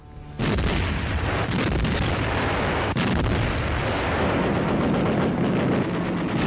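Archival artillery bombardment of Warsaw in 1939: a loud, continuous barrage of overlapping booms, blasts and crackling gunfire that rumbles on without pause, with no voices.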